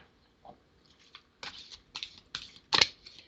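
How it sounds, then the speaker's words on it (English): Tarot cards being shuffled and cut, heard as a series of quick, crisp riffling bursts and soft slaps, close up and growing louder toward the end, with no talking. "I'll get them shuffled up and cut them."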